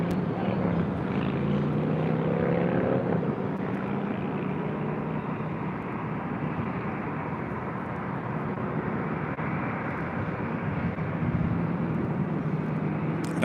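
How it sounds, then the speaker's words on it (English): A Boeing 767-300ER departs from runway 24 left at Los Angeles International, heard as a steady, fairly distant engine rumble and roar that stays even throughout. "767-300ER. Should be a north side departure on 24 left coming up."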